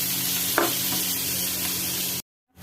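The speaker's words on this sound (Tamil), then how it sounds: "இப்போ இந்த கத்திரிக்காயை அதில் போட்டு ஃப்ரை பண்ணிக்கலாம்." Brinjal slices fry in hot oil in a pan, a close, steady sizzle with a brief stir or clatter partway through before the sound cuts out.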